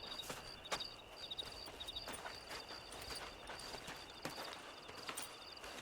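Horse hooves in Red Dead Redemption, a steady walking clip-clop with regular light knocks over a soft ambient background, mid-distance and fairly quiet.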